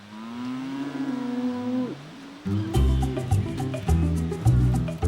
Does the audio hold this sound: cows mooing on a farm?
yes